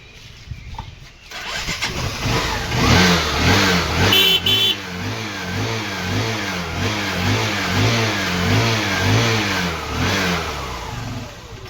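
A 2016 motorcycle engine in A-one condition catches and starts, then runs with a steady, throbbing putter and revs, loud and close, with no talking.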